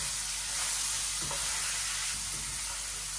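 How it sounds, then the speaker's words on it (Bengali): Hilsa fish frying in a pan gives a steady, close hiss and crackle of hot oil, continuous and alone with no talk. "এখানে যে মাছটা একটু ভেজে ভেজে নিব, ভাজা ভাজা করে নিব"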